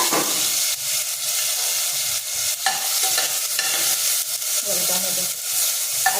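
Chana aamti ingredients roasting in a pan give a steady sizzling, stirring hiss that runs throughout, close and fairly loud with no talk.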